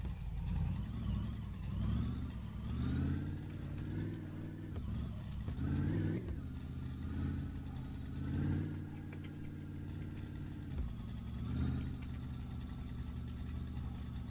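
A car engine with an automatic gearbox in a video game hums steadily, its pitch rising and then dropping back at each gear change, with several shifts in a row and no voices.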